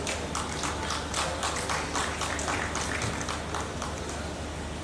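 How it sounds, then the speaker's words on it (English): A conference audience in a forum hall claps steadily for a panel being introduced, a dense patter of hand claps running continuously at moderate loudness with no talk over it. "Can I give you a round of applause,"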